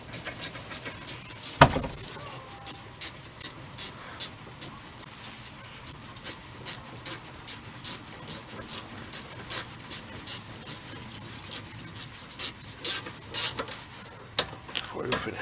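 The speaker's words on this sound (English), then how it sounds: "So tighten these down." A ratchet wrench tightens rear brake hardware bolts on a Toyota, giving a long run of evenly spaced, sharp clicks close by after a single knock near the start.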